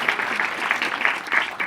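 Short round of crowd clapping at a stand-up comedy show, quick dense applause from the audience with a few sharper individual claps standing out, moderately loud and brief.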